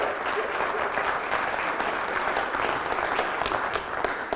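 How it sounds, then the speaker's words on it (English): An audience at a convention breaks into sustained applause, thick even clapping throughout with no voices standing out. "Give him a round of applause."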